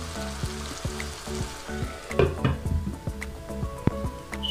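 Pav bhaji with ginger garlic paste frying in a pan gives a soft steady sizzle, with a louder patch of stirring squelches midway. The sound is close but faint, with a faint rhythmic low thumping behind it and no speech.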